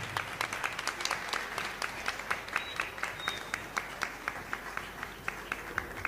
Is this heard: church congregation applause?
yes